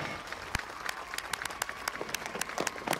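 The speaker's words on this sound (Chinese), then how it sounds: "掌声有请" Applause from an audience at an award ceremony, a steady patter of many hands clapping at a moderate distance, with a few louder individual claps standing out and no talk over it.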